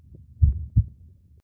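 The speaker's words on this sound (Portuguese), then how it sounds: "Essa é a batida do meu coração." Human heartbeat, two soft low thumps close together in a slow lub-dub pattern, alone with no talking.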